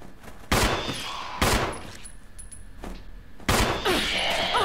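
Loud, close gunshots from the game Resident Evil 1 HD Remaster, three sharp blasts spaced about a second apart, each trailing into a booming echo.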